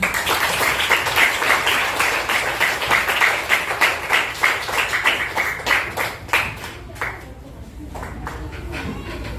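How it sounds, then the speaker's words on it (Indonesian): Children clapping hands in a classroom, first fast and dense, then settling into a rhythmic pattern of group claps that slows and fades. Brief voices are heard near the end. "yuk kita tepuk tangan"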